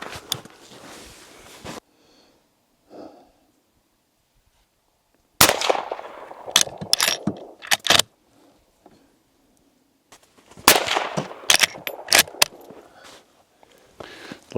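Winchester Model 94 lever-action rifle shooting outdoors: an opening volley, then two loud clusters of sharp shots in quick succession with lever-cycling clicks and quiet gaps between.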